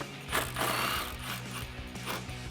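A socket wrench with an extension loosens a 10 mm headlight bolt on a 2015-2017 Ford F-150, giving quick close ratcheting clicks in short bursts with faint metallic handling between them.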